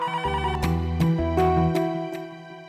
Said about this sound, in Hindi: फोन तो उठा लिया करो।